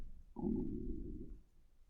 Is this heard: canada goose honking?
no